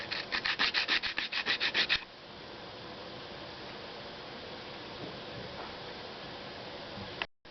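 Sandpaper works over filler material on a cement sheet during pickup truck repairs, opening with a run of quick rhythmic rubbing strokes and then settling into a steady, close abrasive hiss.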